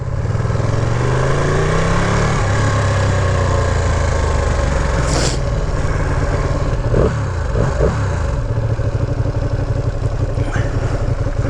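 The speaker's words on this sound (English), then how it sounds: "First gear. Release the clutch. The bike's going to move." A Ninja 400 motorcycle engine runs loud and close in first gear, its steady drone shifting in pitch as the bike pulls away, with no talk over it.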